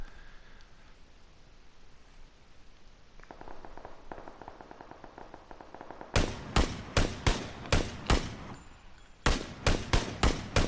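Gunfire in PUBG on the Miramar map: after a quiet stretch and a faint buzzing, two bursts of evenly spaced, sharp single shots ring out, about six shots each, loud against the low background.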